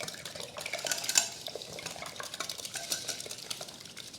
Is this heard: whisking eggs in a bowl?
yes